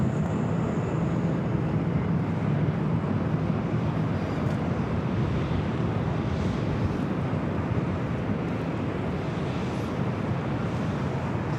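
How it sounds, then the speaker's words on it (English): A Southwest Airlines jet taking off from runway 24 Left at Los Angeles International Airport, a steady, broad roar of engine noise that stays loud and constant throughout, mixed with wind buffeting on the microphone. "That was a Southwest flight heading to Albuquerque, New Mexico"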